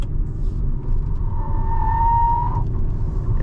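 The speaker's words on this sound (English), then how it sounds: "Yeah, a lot of wheel spin on the inside wheel there." A BYD Dolphin electric car pulls away under roughly half throttle while its inside wheel spins, giving a rising whine over a steady low road rumble with no voices.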